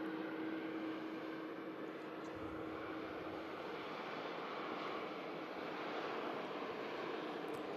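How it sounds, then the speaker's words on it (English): Jet engines of a TUI Boeing Dreamliner hum as a low, steady distant roar at an airport, unchanging and without talk. "Another TUI Dreamliner lined up on the south side, heading out to Larnaca."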